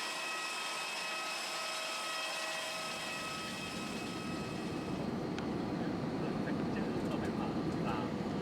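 Airliner on final approach into Buri Ram airport, heard from inside the cabin as a steady loud engine and air roar with a high whine fading as the low rumble builds.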